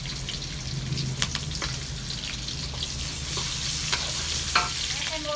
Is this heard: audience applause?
no